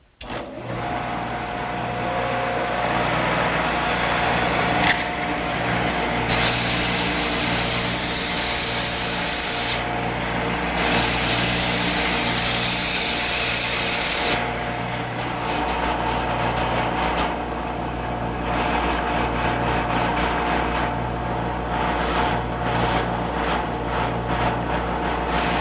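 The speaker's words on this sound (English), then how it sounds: "Now with the blank still in the lathe, it's a snap to do the sanding." Wooden blank sanded on a spinning lathe with coarse 80 grit then finer 180 grit paper, the lathe sped up: a steady motor hum carries continuous loud rasping friction, with bursts of brighter hissing scrape as the paper presses on, alone throughout.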